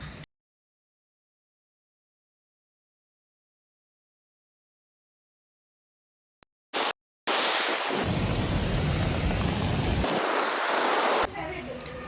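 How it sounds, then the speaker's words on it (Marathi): A waterfall behind a house in Tamhini Ghat, heard as a loud, steady broadband roar of falling water that starts abruptly after several seconds of silence and continues near the microphone, with brief breaks. "हे आहे आमच्या घरामागचं एक जागा जिथे धबधबा आहे"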